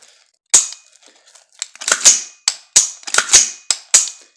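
AR-15 rifle with a heavily greased bolt carrier and no gas rings fired live, a string of about six sharp, loud close shots, first alone then in a quicker uneven cluster.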